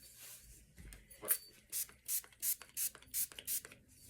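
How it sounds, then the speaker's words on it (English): A spray bottle of rubbing alcohol is pumped in quick succession, about eight short hissing spritzes in an even rhythm, close and fairly quiet. "Now I've got some rubbing alcohol here that's in a spray form."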